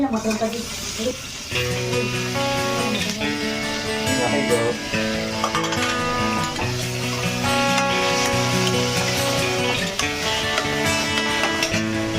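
Chopped onion, mustard seeds and garlic sizzle steadily in hot oil for a tempering, a constant frying hiss running throughout beneath prominent background music and a speaking voice.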